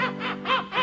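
A person imitates seagull cries, three short nasal squawking calls in quick succession, close and fairly loud, as part of a comic cruise-ship scene on a television entertainment show.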